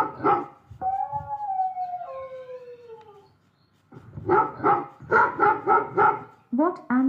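A small dog barks in a quick burst of several yaps, with whining and howl-like tones between them, close and fairly loud.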